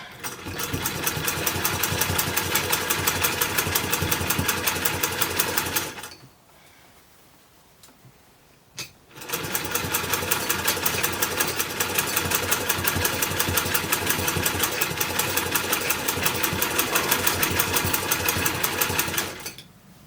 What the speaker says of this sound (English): I'm just sewing it on the bodice now.